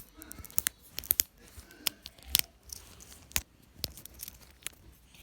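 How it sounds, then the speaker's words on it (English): A plastic fidget toy clacks in sharp irregular clicks and snaps, some doubled, close-up and fairly quiet over a faint background, with no voices. "Do you hear the clacking sound?"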